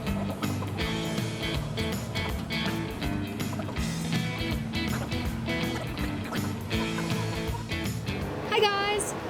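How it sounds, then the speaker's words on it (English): A ferry engine drones loudly and steadily on board at the port of Piraeus, with water rushing beneath it. A brief whistling tone rises near the end. "We are on a ferry."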